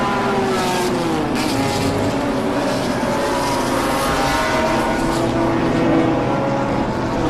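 BMW race cars roar through turn 4 at the Zwartkops circuit during a national racing series race. Engines drone loudly and continuously as cars pass.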